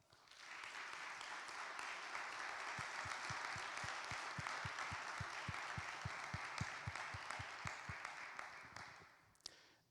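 An audience at the Jornadas Borges 2021 gives applause for María Kodama, a steady wash of many hands with a rhythmic nearby clapper joining in the middle, sounding faint and distant before it fades out at the end.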